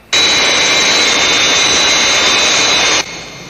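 A large jet aircraft's engines roar in a loud, steady, broadband blast that starts abruptly and holds for about three seconds before cutting down to a lower rumble, in a Thunderbirds puppet-series runway landing scene.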